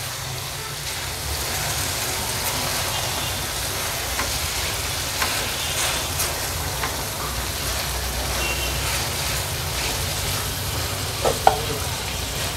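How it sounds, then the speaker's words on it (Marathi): Peanut, grated fresh coconut and salt stuffing mixed over brinjal in a pan, a steady soft sizzle with scraping and stirring strokes and an occasional light clink. "ह्या सर्व इन्ग्रेडियंट्स आपण व्यवस्थित मिक्स करून घेऊया।"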